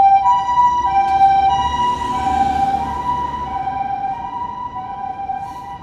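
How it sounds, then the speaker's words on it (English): A loud ambulance siren wails steadily nearby on a Tokyo street between Ebisu and Daikanyama, its tone wavering over traffic rumble before slowly fading slightly as it moves along. "As an ambulance is behind me, sorry. That's loud."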